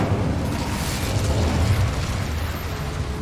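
An Incendio fire spell bursts in Hogwarts Legacy on PS5, a loud, continuous roaring whoosh of flame and rumble that fills the space with no voices over it.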